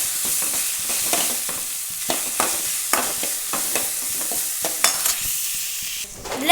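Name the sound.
onions frying and being stirred in pan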